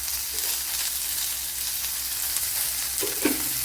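Snake gourd and long beans frying in oil for a Kerala thoran, a steady close hiss and sizzle with a couple of faint stirring knocks near the end.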